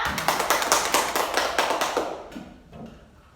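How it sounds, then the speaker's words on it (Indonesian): A class of primary-school pupils claps together for several seconds, a dense burst of hand claps that thins out and fades toward the end. "tepuk tangan untuk semuanya"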